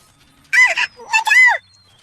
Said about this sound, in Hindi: वो कोई विशालकाय भयानक पक्षी था।